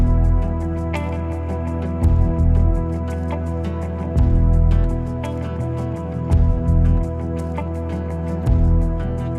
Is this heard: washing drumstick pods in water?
yes